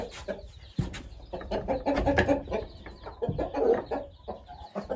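Backyard farm chickens clucking and chattering close by just after being let out, a busy overlapping flock with frequent short calls and no talk.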